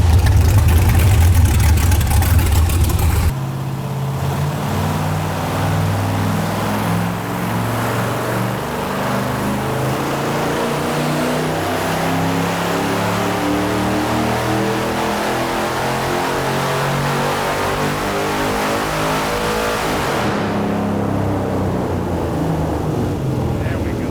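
A junkyard V8 engine on a dyno pull roars loudly and steadily for a long sustained run, its note climbing, then the sound cuts off abruptly.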